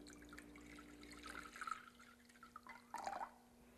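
Warm water pours quietly from a pitcher for hand washing, a soft, faint trickle with a couple of brief splashy surges near the end.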